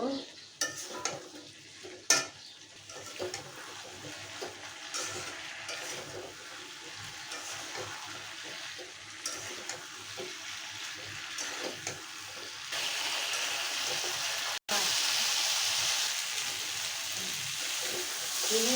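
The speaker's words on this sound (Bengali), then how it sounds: "দেখুন আমি মশলার সাথে কসুরলতিটা ভালো করে কষিয়ে নিয়েছি।" Taro stolons cook with spices in a pan, giving a long steady sizzle with repeated stirring scrapes and light utensil clinks, the hiss swelling louder and brighter in the latter part.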